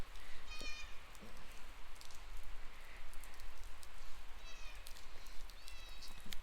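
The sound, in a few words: rain starting to fall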